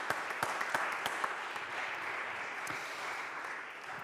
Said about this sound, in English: Let's give our DofE students a round of applause